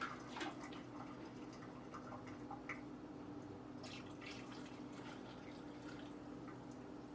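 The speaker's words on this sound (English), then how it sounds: "I'm just gonna pour this straight up." Homemade elderberry syrup poured into jars in a kitchen, a faint, continuous liquid trickle with soft drips, heard alone without talk.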